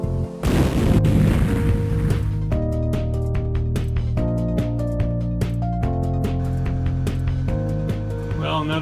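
A Canon printer bursts apart in one loud, close boom with a crashing tail at the start, followed by a steady musical backing with no voices.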